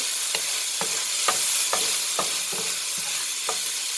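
Mongolian pork frying in a pan is stirred with regular scraping strokes, roughly two a second, over a constant loud sizzle close by, with no speech.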